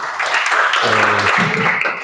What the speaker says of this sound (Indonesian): silakan tepuk tangan buat Mas Yusuf.